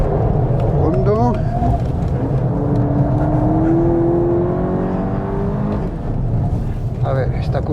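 A 2022 VW Polo GTI pulls hard at full throttle on a race track, a constant loud engine drone with a rising whine midway, while people speak over the noise.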